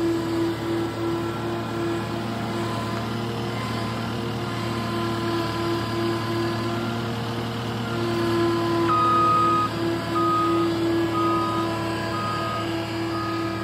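A skid steer loader fitted with a bucket drives around on site, its engine droning steadily while a repeating reversing beep rises and falls over the rumble, fairly close and continuous throughout.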